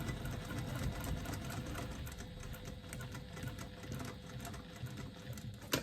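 A sewing machine stitches a lining gusset with a steady, fast mechanical whir and needle patter, faint and continuous throughout with no talk.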